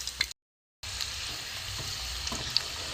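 Whole prawns frying in hot oil for prawn pitha, a steady crackling sizzle with brief stirring or turning noises and a short dropout near the start.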